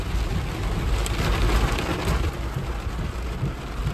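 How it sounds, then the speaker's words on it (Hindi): Torrential cloudburst rain pours steadily and loudly during a drive on a mountain road, a dense continuous roar of heavy rainfall drumming on the vehicle with no voices. "मूसलाधार बारिश हो रही है, ऐसा लग रहा है जैसे बादल फट गया हो"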